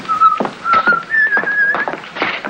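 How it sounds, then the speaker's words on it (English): Someone whistles a short, lilting tune up close, clear notes gliding between pitches in quick phrases. "Whistling backstage."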